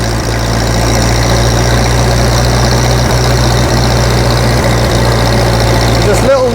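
A Grey Fergie tractor engine drones steadily and loudly while driving on the road, a constant low throb with no break, and a voice talks over it.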